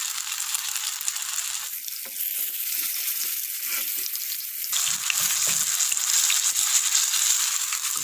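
Coconut-stuffed banana browning in hot oil in a pan, a steady bright sizzle with a louder, denser burst of frying partway through, close up and uninterrupted.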